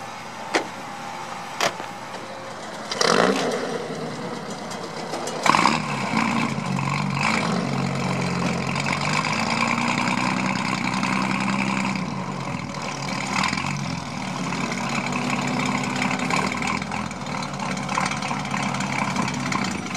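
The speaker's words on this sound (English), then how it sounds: "Look at that, ramp truck." A ramp truck hauling a double-decker car trailer idles nearby with a steady engine rumble, marked by a few clanks and thumps, and no talk.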